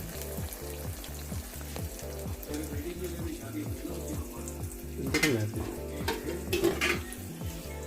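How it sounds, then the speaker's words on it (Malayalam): Food crackling as it fries in a pan in a home kitchen: a steady close sizzle with a low rhythmic hum underneath and a few utensil clinks and scrapes near the end. "പൊരിക്കുകയാണ്."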